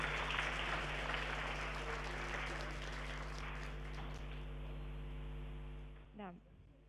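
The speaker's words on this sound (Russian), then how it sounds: "наши горячие аплодисменты вам" An audience applauds during the Kazan Federal University telebridge with the International Space Station, with steady dense clapping over a constant mains hum that dies away near the end.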